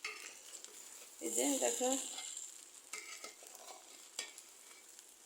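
Rice frying and being stirred in a pan for a simply spiced beef biryani, a steady sizzle with scraping stirs throughout and a brief voice speaking in the middle.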